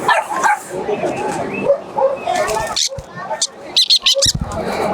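Pet birds chirp and squawk in quick bursts at a pet carnival in Hyderabad, with dogs yipping and barking nearby and people talking over the noise.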